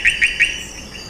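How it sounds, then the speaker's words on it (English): Three short rising, sweeping frog notes sound in quick succession, fairly clear against a constant background hum of other calling frogs or insects. "There's a frog in the background making frequency sweeps,"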